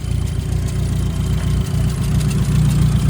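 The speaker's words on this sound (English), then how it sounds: "Our turbo's spinning now" A budget turbocharged Mazda Miata running very rich sends out a steady mid-to-low engine drone with a faint high whine on top, loud and close, holding nearly constant with no talk.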